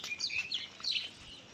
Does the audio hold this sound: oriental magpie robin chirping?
yes